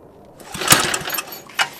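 A Tecumseh small engine on old power equipment, set to choke and fast, gets a single pull-start attempt: a brief rattling crank with a couple of sharp clacks that never catches, close by and with no talk.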